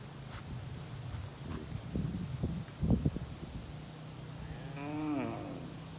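Buffalo grazing right on a riverbank in the Phander Valley, Ghizer, Gilgit-Baltistan, give one low moo near the end, faint and a little distant, after soft rustling and a steady low hum.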